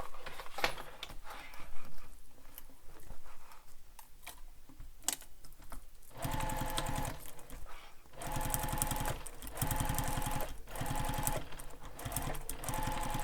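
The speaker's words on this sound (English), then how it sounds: "You're only stitching through the back panel and your luggage sleeve." Domestic sewing machine stitching a backpack back panel and luggage sleeve, a fast steady mechanical whirr in several runs, the later bursts louder and more continuous, with pauses and small handling clicks between.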